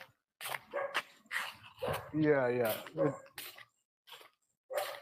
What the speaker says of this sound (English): I hear a dog barking in your background